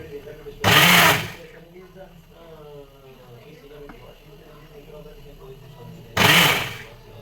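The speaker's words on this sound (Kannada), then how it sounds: "ಟೊಮೊಟೊ ಅಷ್ಟು ಮಿಕ್ಸಿ ಜಾರಿಗೆ ಹಾಕ್ಕೊಂಡಾದ್ಮೇಲೆ ಫೈನ್ ಪೇಸ್ಟ್ನ ಮಾಡ್ಕೋತಾ ಇದ್ದೀನಿ" Mixer grinder jar blending cooked tomatoes into a fine paste, two short loud bursts of high whirring motor noise separated by a long gap where a voice talks.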